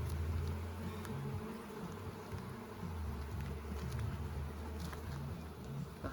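Honey bees swarming around an open hive during an inspection, a dense, continuous low buzzing hum close by with occasional louder passes of individual bees.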